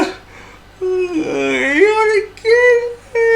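A voice imitates a long, drawn-out yawn with a rising then falling tone, followed by a couple of shorter vocal sounds, close and clear.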